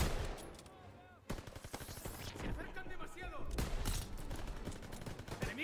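Sniper and rifle fire in Call of Duty: WWII across the Seine, with repeated sharp cracks and bursts of gunshots amid battle noise and distant shouting.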